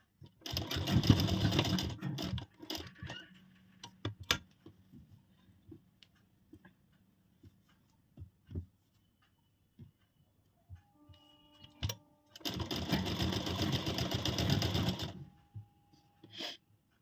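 A sewing machine stitching a blouse neck runs in two loud bursts of fast mechanical whirring, with scattered clicks and handling taps in the quiet gap between them.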